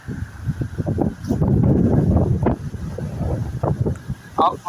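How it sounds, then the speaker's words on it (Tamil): Loud, continuous rushing of storm floodwater at Mathagal roars steadily, with gusty wind buffeting close by and voices faintly mixed in. "தண்ணியை ஓடுற ஓட்டத்தை பாருங்கள், சத்தத்தை பாருங்கள்"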